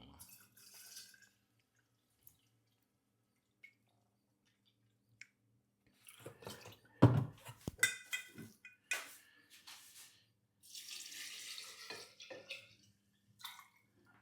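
Cherry-infused homemade vodka poured into pear liqueur, a trickling, dripping pour with liquid splashes and glassy clinks coming in bursts after a quiet start, with speech heard now and then.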